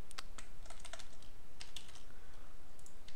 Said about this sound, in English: this just allows me to type in all the months of the year